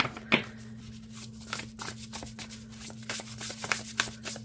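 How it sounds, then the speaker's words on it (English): A deck of oracle cards is shuffled by hand in a steady series of soft riffling and flicking sounds. The shuffling is close and moderately quiet over a faint constant hum, with no speech. "Oh yeah, it shuffles nice this way too."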